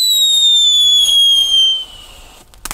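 A firecracker's shrill, high whistle slides slowly downward for nearly two seconds, then fades, followed by a couple of sharp cracking pops at the very end.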